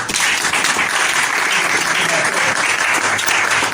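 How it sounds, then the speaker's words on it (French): A church congregation at a Sunday service applauds warmly, a dense continuous wash of clapping filling the room, loud and steady throughout, with some voices under it. "Acclamation pour lui, s'il vous plaît."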